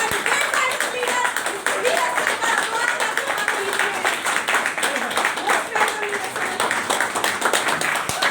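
An audience welcoming a mentor with applause, many hands clapping in a dense, steady patter from start to finish, with speech faintly mixed underneath.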